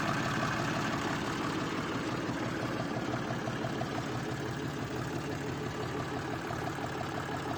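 A Zubr 240 Chinese tractor engine runs steadily with a 1.6 m Japanese rotary tiller attached, a continuous loud mechanical drone with a rhythmic chugging texture, close up and alone throughout.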